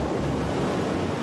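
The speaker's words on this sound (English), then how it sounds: "tsunami." Tsunami waves crash as a sound effect: a loud, dense, continuous roar of surging water and wind-like rush that fills the whole moment without any break.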